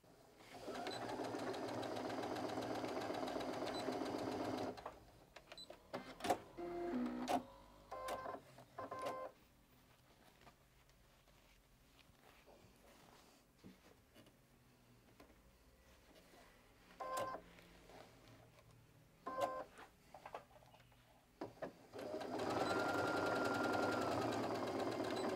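Domestic sewing machine stitching the side seam of a fabric pocket organizer, running in steady bursts with pauses between them, close and clear, with quiet handling sounds during the gaps.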